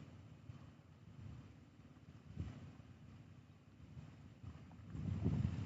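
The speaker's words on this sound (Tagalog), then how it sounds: "Masyado atang malakas yung hangin." Strong wind buffeting the microphone during a DJI Neo drone flight above water, a steady low rumbling roar with gusty swells that grows louder toward the end, with no voices.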